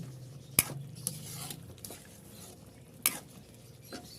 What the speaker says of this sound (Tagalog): Haluin lang natin ng haluin.